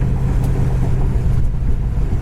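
The engine of a 1972 Buick Skylark GS with a 4-barrel carburetor, heard under transmission kickdown as a loud, continuous low engine roar from inside the moving car.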